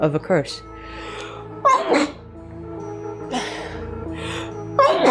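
A single sharp sneeze bursts out near the start, followed by scattered speech and breathy vocal sounds in a quiet room.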